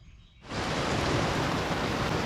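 A sudden downpour of rain begins outside an RV, swelling quickly into a dense, steady roar of drops that continues evenly, with no voices.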